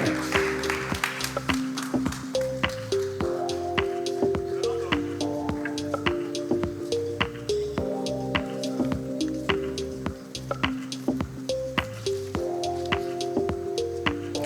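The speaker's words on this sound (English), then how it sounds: "Please, another warm round of applause for His Excellency Nicolas Kasadi, Finance Minister, Democratic Republic of Congo." Steady applause at a finance summit rings out for a finance minister, continuous clapping layered over tonal music or background sound throughout.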